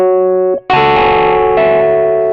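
Rhodes electric piano on a sparkly Suitcase-style preset plays a short sustained chord, then a louder, bright, bell-like chord that rings on with a shimmering tone.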